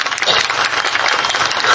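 A crowd at a political rally in West Bengal applauds steadily and loudly, a dense wash of clapping that continues for the whole stretch without breaks.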